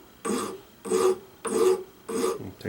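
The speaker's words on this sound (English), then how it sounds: "looks like I'm just going to be filing this all the way down" Metal file rasping on a part of a Colt Walker revolver, four slow, even strokes with brief pauses between, close and fairly quiet with no talk.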